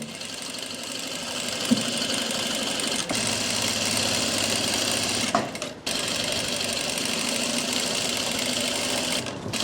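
A sewing machine runs steadily, stitching a seam on palazzo pants. Its motor hum is loud and continuous, with one brief pause partway through before the stitching resumes.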